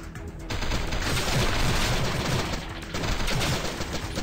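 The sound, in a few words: gunfire from a gun in the video game Sift Heads Reborn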